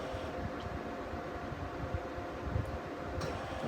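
A pellet stove fan blows warm air in a steady, even broadband whoosh with a low rumble, constant throughout, with a couple of faint ticks on top.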